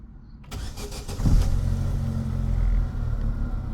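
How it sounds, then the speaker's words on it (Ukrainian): A 2011 ZAZ Lanos engine cranks briefly, catches and starts, then settles into a steady low idle rumble, close and clear with no talking. "Зараз ми запустимо двигунчик."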